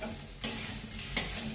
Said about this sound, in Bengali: এবার একটু সুন্দর করে কষিয়ে নেব